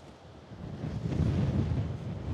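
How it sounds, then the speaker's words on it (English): Low, rumbling buffets of wind hit the microphone outside an abandoned 1986 luxury mansion, swelling louder midway and staying rough and close until the end. "It's a fairly windy day, but I'm using my new mics"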